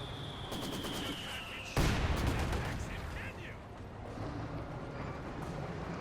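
A T-34-76 tank fires its main gun in the wartime strategy game Company of Heroes 2, one loud booming blast near the middle over rattling battle noise and a whining tone.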